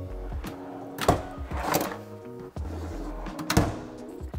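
Lower drawers in a Mercedes Sprinter camper van being slid open and shut, giving a few close, quiet thunks and sliding rattles in quick succession with no talking.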